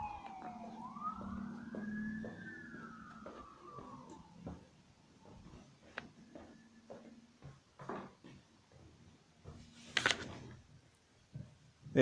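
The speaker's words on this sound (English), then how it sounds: "Look at this ambulance vehicle with the lights on." An ambulance with its lights on passes along a street with almost no traffic in Austria. Its siren wails and sweeps upward, fairly faint and distant, then gives way to scattered traffic noise and clatter.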